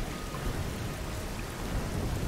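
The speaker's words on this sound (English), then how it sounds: "It's pretty scary being on a ledge like this, you know, in the rain." Steady, dense rain pours in Tomb Raider (2013) while the character clings to a cliff ledge on an island, a constant hiss with low rumbling beneath it and no speech.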